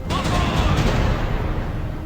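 Bow cannons on a ship fire in the mobile pirate game The Pirate: Caribbean Hunt, producing a dense, rumbling roar of blasts that runs loud and steady through the whole moment.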